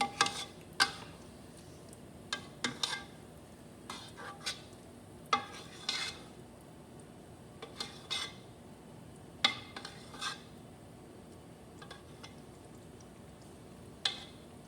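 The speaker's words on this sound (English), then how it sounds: "I'm mixing them out so that it's nice and even." A spoon scrapes and clinks against a pot of Persian fesenjan stew in scattered bursts, close by, with a soft background hiss and no talking.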